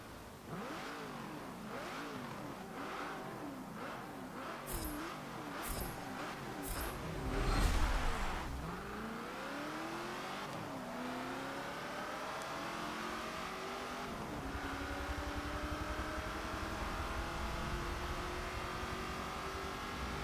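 Open-wheel race cars in Forza Motorsport 7 scream around Monza, engines revving and shifting through gears as several cars pass close by, with continuous loud engine whine and doppler sweeps, no talk.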